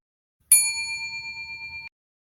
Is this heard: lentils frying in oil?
no